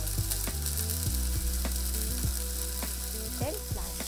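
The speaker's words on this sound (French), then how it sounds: "Y poser les morceaux de viande et les saisir environ 1 minute." Pieces of beef steak sear in hot butter in a frying pan, a dense continuous sizzle with occasional clicks and scrapes, close and steady with no voices.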